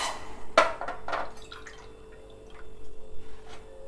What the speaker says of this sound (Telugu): దీంతో 2 గ్లాసులు నీళ్ళు పోసుకోవాలి